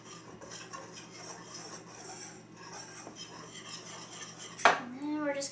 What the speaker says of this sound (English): So now we're going to whisk this together.